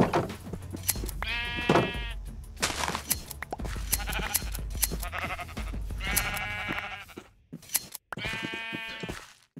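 Minecraft sheep kept at a half-timbered house bleat several times in separate bursts, loud and close, with game noise between the calls.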